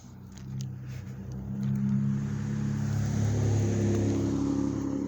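A car driving past on a street at Carroll Avenue and Park Avenue in Takoma Park: a low engine hum grows louder and nearer, holding a steady rumble as it passes, with no talking.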